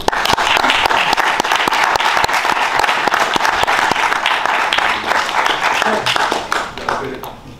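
A large crowd at a boxing event in Wembley Stadium applauds loudly and steadily with dense clapping and cheering, then fades slightly toward the end.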